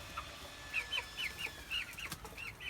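Chickens in a coop give soft, quick clucks and peeps in a loose, repeating pattern. The sound is faint and close over a low background hum.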